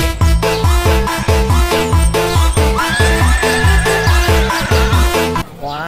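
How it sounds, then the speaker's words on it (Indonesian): A horse neighs in an animated children's scene, its whinny riding over a loud, bouncy rhythmic music track that plays throughout with a steady thumping beat. "ternyata ini kuda"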